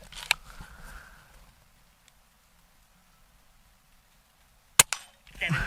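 Two sharp snaps from a Hatsan Jet 2 .22 air pistol fired at a steel target 20 yards away, one near the start and another after a long quiet gap, the second followed by a quick metallic tick.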